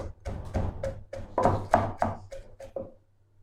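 A series of dull, rhythmic thumps and pounding taps as herbs, including green coriander, are mashed for chicken biryani, about a dozen in quick succession, close by, then stopping.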